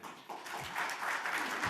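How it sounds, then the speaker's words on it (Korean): Brief applause rises from the audience at a legislative public hearing on real estate sales agency reform, a quiet, steady patter of many hands lasting under two seconds. "큰 박수 부탁드립니다"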